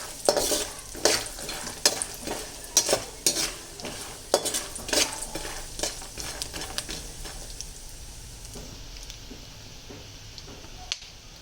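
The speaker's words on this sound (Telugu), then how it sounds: "చూడండి పల్లీలు ఇవి ఎక్కువసేపు వేయించొద్దు అన్నమాట" Peanuts frying in a pan, with a steady sizzle and sharp clicks and scrapes as they are stirred, close and busy at first, then easing to a softer sizzle with no speech.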